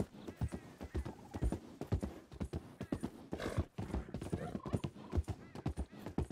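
Steady clip-clop of horse hooves trotting at an even rhythm in Red Dead Redemption 2, close and clear, with a horse snorting and whinnying now and then.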